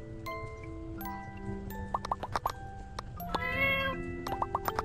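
A pet cat meows repeatedly in the farming life sim My Time at Portia, several short game-sound meows in a quick, uneven series over faint background music, with no talk.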